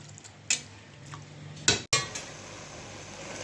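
Cooked goat intestine being moved into a cooking pot, with a few sharp metallic clanks of a utensil against the pot spaced over a few seconds, close and otherwise quiet.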